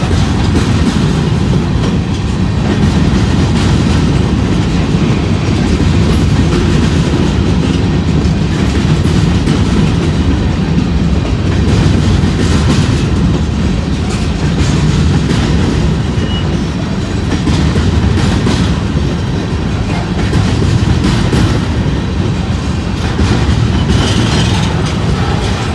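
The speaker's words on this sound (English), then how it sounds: "I'd like to know how many gondolas they got on this train." A long freight train hauling well over a hundred gondola cars rolls past close by, its loud continuous rumble carrying steady clickety-clack from the wheels without a break.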